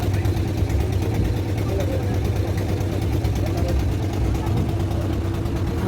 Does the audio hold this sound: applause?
no